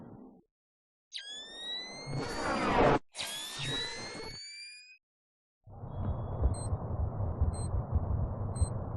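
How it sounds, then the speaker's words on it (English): A wall mine in Splinter Cell: whining electronic tones and harsh buzzing bursts, broken by short silences, followed by a low rumbling hum with faint repeating beeps. "That's the sound of a wall mine."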